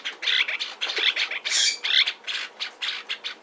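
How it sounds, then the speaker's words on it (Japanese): Several young lineolated parakeets give shrill, repeated squawking chirps close by, in quick overlapping bursts with no talking. "下の3羽はなんかピーピー鳴いてますね。"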